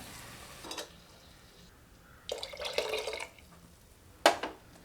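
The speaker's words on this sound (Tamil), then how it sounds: "இப்போ தண்ணி சேர்த்துக்கலாம்" Water is poured in a few short bursts into a pressure cooker for ven pongal, splashing and gurgling close by, with quiet pauses between pours.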